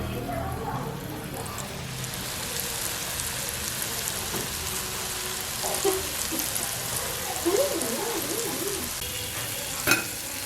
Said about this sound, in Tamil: இதே மாதிரி பொரிச்செடுங்க எல்லாத்தையும்.